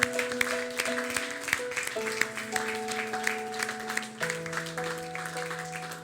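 A church congregation applauding during a Sunday service, a sustained clatter of many hands under sustained organ or keyboard chords, fairly loud and continuous.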